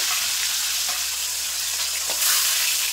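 Fish heads fry in hot oil, a loud, continuous crackling sizzle close up with a few brief pops and a slight surge near the end.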